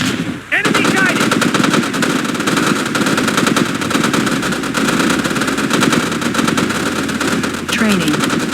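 Sustained machine gun fire in the Red Alert video game, loud continuous rapid bursts over engine rumble, with game voice lines heard over the shooting.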